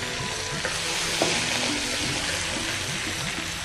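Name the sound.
green chilli paste sizzling in cumin tempering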